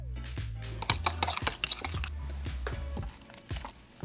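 Carrot, egg, heavy cream and butter being stirred together for a carrot mug cake, with a utensil clinking and scraping against the dish in quick, close taps and swishes, alone without talk.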